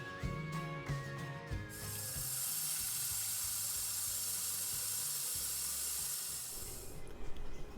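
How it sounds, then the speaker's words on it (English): Running tap water pours steadily over dal lentils being washed in a kitchen, a close, continuous splashing hiss that starts after a few light clinks and fades near the end. "First of all, I am washing dal properly. I wash it 5 to 6 times."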